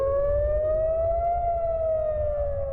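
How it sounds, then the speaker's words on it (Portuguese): An Israeli air raid siren warning of a rocket attack wails loud and steady, one long sustained tone that slowly rises and falls slightly, with no voices over it. "Quando há ataque com foguetes, o sistema de defesa de Israel é acionado e uma sirene toca."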